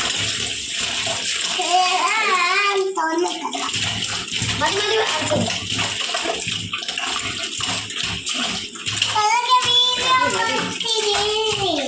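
Animals being washed in water for a third rinse, with splashing and pouring water running steadily throughout while people, including a child, talk over it.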